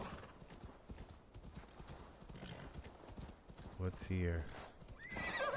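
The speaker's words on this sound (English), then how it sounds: "The horse doesn't like climbing this stuff." Rapid horse hoofbeats scrambling up a hill in Assassin's Creed Valhalla, with a whinny near the end, under game ambience and a brief spoken question.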